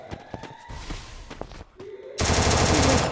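Gunfire in the Free Fire Max battle-royale video game, scattered loud shots and thumps, then a dense sustained burst of rapid automatic fire that fills the rest of the moment, with game effects underneath.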